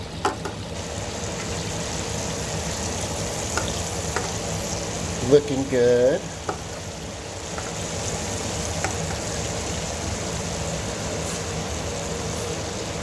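Steady crackling sizzle of chicken frying in oil throughout, with brief clatter and a short burst of handling near the middle as pieces are turned; a voice speaks briefly.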